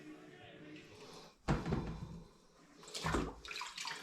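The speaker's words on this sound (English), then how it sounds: "give these a rinse and get rid of any muck on them" Rhubarb sticks are rinsed under running water in a kitchen, two loud gushing bursts of water with quieter handling in between.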